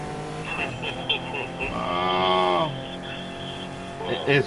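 A car in the racing game Need for Speed Heat drifts: a revving engine tone swells and holds for about a second alongside tire squeal, with a voice talking over the gameplay.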